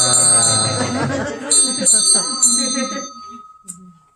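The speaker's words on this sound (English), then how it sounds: "does anyone want to ring the servant bell?" A historic house servant bell rings out brightly several times with a sustained metallic tone and decaying overtones, while children and adults talk over the first strikes.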